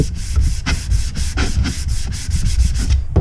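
Sandpaper rubs back and forth over a model rocket in a fast, close scratching rhythm of about a dozen strokes in a few seconds, with no voices.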